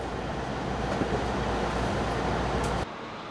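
A Mugunghwa train on the Taebaek line arrives at Yemi station, heard as a loud, continuous rumble and roar of the rolling train that cuts off abruptly near the end.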